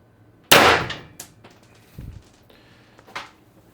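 A single sharp, loud crack from an X-68 CO2 gun firing a shot with heavy ammo, followed by a few fainter clicks and clacks of the mechanism.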